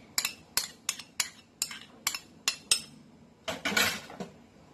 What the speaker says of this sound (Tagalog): Halo-haloin lang natin yung ating mga ingredients.